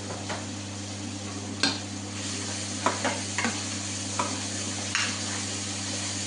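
Onions sizzle in melted butter with a spoonful of salt, a steady close frying hiss broken by a few sharp scrapes and clinks of a spoon stirring against the pan, no voices.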